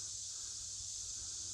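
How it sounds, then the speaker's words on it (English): Cicadas at a mountain overlook on the Cherohala Skyway keep up a steady, high, even buzz that sounds faint and distant, with no breaks. "we got some cicadas talking too"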